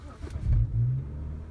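A BMW 335i with the N55 turbocharged inline-six starts up, a brief low rumble swelling into a short rev before settling toward idle, heard close and fairly loud with no voices.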